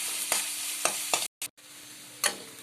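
Onions frying in oil toward golden brown for an Odia crab curry, a steady close sizzle with periodic stirring scrapes and two brief dropouts partway through; no talking.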